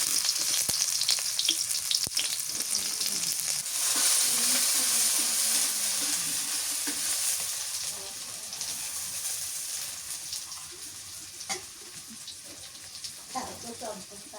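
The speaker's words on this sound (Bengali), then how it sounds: "গরম হয়ে গেছে সর্ষের তেল দিয়ে দিই পেঁয়াজ কুচি দিয়ে দিলাম" Chopped onions hit hot mustard oil with a loud, close sizzle that gradually softens into a gentler frying hiss, with a few clinks of stirring toward the end.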